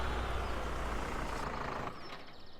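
A 75-horsepower tractor pulling 21 loaded trailers, its engine a loud, steady low rumble that eases slightly toward the end.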